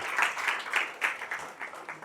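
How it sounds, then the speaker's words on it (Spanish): A church congregation claps for the Lord in a quiet, rhythmic beat, a soft pulse of many hands repeating about four times a second, heard somewhat distant. "Denle un fuerte aplauso al Señor"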